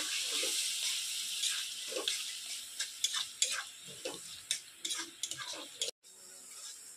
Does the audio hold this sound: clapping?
no